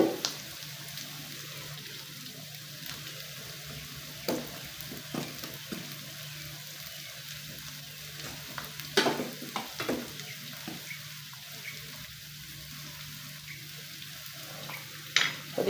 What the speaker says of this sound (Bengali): পেঁয়াজটা একেবারে যে লাল লাল করে ভেজে ফেলবো তা না